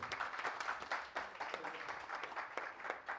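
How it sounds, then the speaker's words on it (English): An audience at a Kenya diaspora convention applauds, a soft, distant patter of many hands clapping steadily for a few seconds. "A round of applause for him."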